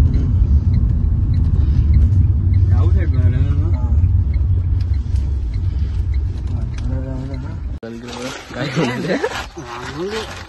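A car driving along a road gives a steady low engine and road rumble from inside the cabin, with people talking over it throughout.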